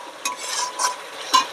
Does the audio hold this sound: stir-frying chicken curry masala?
yes